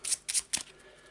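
A deck of cards for the Eldritch Horror board game gets a quick shuffle, three short crisp riffling bursts in rapid succession, fairly quiet and close.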